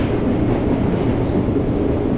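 A moving train heard from inside a carriage: a steady, loud, broadband rumble of wheels and rails with no pauses and no voices.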